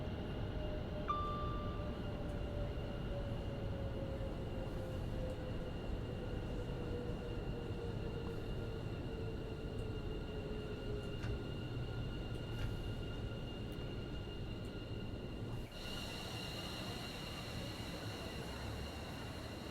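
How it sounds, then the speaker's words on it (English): A London Overground train runs in the Train Sim World 4 video game with a modded sound set, giving a steady low rumble and hum with a faint falling whine and a slight shift near the end. "I'm using a sound mod for this train."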